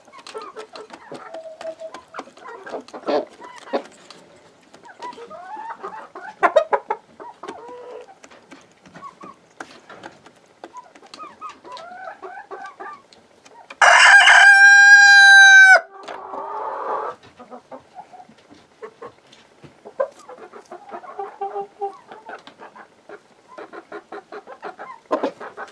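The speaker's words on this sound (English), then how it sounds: "We have 2 roosters there now pecking at that one." Two roosters pecking at lettuce cluck softly and irregularly nearby, then one lets out a single loud crow midway before the scattered clucking resumes.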